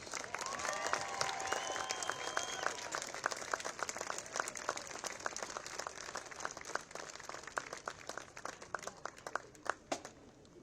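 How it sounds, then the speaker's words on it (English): A crowd at the Lincoln Veterans Parade gives a sustained round of applause for veterans, a dense patter of many hands clapping at moderate distance, steady for the whole stretch with a few sharper nearby claps standing out. "One more round of applause for all of our veterans."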